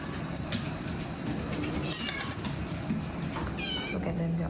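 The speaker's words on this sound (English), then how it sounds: "Time to feed the cats." Several cats meow repeatedly at feeding time in a home in the Japanese countryside, with short, overlapping calls over a low background rumble and faint talk nearby.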